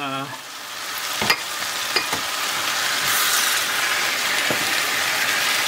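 Tomatoes tipped into a pan of frying mixed vegetables with hot chili peppers, giving a few sharp clatters and then a steady, loud sizzle and crackle.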